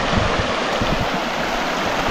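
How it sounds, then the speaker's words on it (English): A river swollen about a foot above its usual level rushes past in a continuous broadband wash, close and steady with no voices. "Yeah, the river's definitely lifted."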